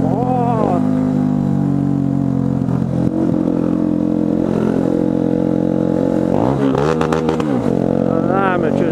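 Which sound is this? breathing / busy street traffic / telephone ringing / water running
busy street traffic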